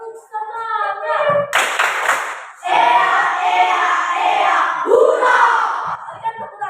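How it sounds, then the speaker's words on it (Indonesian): Group of students doing a spirit clap in a classroom, a short burst of clapping and shouting after spoken instructions, then a longer sustained round of clapping, with voices before and after. "Mari kita mulai. Tepuk semangat."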